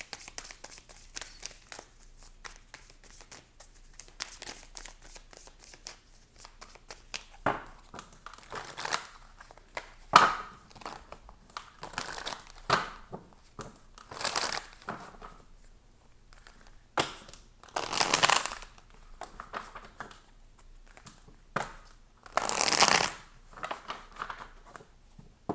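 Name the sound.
shuffling tarot cards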